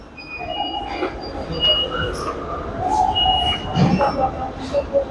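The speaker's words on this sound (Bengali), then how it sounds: "এই হলো টাশকেন্টের মেট্রো স্টেশন।" A metro train moves through a Tashkent underground station, with rumble, squealing wheels and chime-like tones under faint talk and station ambience.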